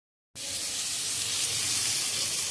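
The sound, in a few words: boiled jackfruit pieces frying in hot oil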